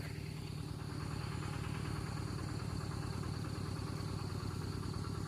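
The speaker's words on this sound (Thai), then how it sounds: "รถไถกำลังออกมานะพี่น้อง" Tractor engine idling steadily close by, a continuous low throbbing hum with constant vibration and no talk, at a traditional charcoal-making site in Laos.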